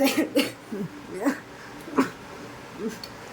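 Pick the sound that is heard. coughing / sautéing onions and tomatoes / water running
coughing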